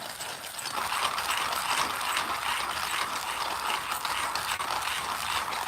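A hand coffee grinder crunches espresso beans in a steady, close, continuous rasping grind with no talking.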